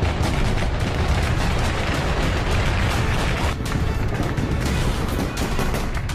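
Dense, loud gunfire crackles without a break, rapid shots blurring into one continuous barrage with no voices.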